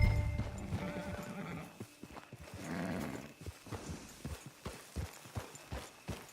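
Horse in the Red Dead Online video game, hooves clip-clopping at close range with a whinny and snorts, steady plodding steps that slow and stop.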